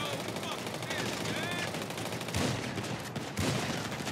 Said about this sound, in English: Damn, that was a freaking huge shootout.